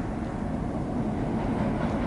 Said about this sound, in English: So you can see down there, here comes our train.